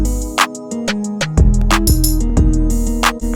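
A tambourine sample drops into a GarageBand hip-hop beat, its bright jingling hits landing at a few points in the bar over a looping bass and synth melody.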